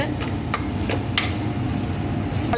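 Soft scraping and clinking of a utensil stirring sautéed ingredients for okra tamarind curry in a pan, a few brief strokes over a steady low sizzle.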